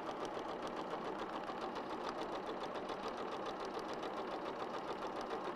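Sewing machine stitching quilt pieces, a fast, even mechanical chatter of needle strokes running without pause, close but fairly quiet, with no speech.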